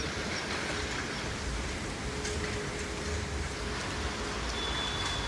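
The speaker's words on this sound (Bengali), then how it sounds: "এই দেখো বাইরে পুরো বৃষ্টি পড়ছে, সকাল থেকে গুমোট করে থেকে এখন বৃষ্টিটা শুরু হয়েছে, বেশ জোরে পড়ছে।" Heavy rain pours steadily outside after a humid morning in Lake Town, a dense, unbroken hiss that stays loud and even from start to finish with no voices.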